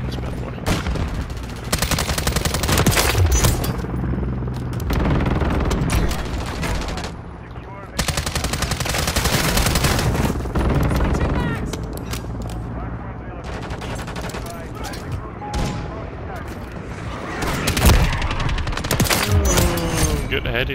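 Rapid automatic gunfire in Call of Duty Modern Warfare 3, in loud dense bursts with short pauses between them, plus occasional booms and mechanical clicks, with a player talking over it.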